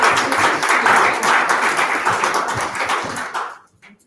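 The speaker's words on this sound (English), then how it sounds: "Round of applause," An audience at a London startup founders' event applauds a presenter, a dense wash of clapping hands sustained for over three seconds before fading out quickly into near silence.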